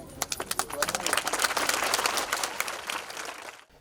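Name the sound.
audience applauding for the children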